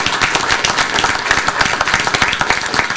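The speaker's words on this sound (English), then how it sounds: "give her a round of applause for a great job" Loud, close clapping from an audience at a Prince George's County quality-of-life report presentation, a dense patter of individual hand claps sustained evenly throughout with no voices over it.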